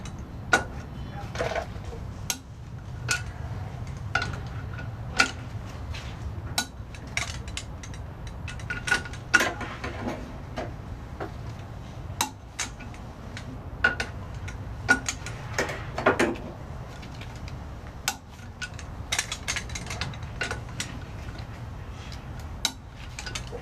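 A torque wrench tightens bolts to 18 foot-pounds while a 1969 VW Bug engine is installed, giving scattered sharp metallic clicks and ratchet ticks over a quiet workshop background.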